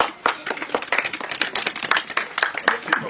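An audience applauds at an association ceremony, a dense, steady patter of many hands clapping close by for about three seconds with no talking.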